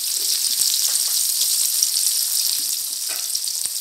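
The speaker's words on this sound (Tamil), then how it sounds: "கடுகு வெடிச்சுட்டு பல்லாரி போட்டுக்கோங்க" Sliced onion fries in hot oil with spluttered mustard seeds for semiya upma, giving a continuous close sizzle with scattered small pops and crackles.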